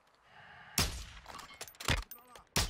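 Sharp, loud sniper rifle shots in a first-person shooter video game, several abrupt cracks with short gaps between them, mixed with other game noises.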